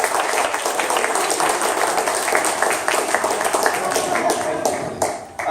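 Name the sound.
round of applause for a speaker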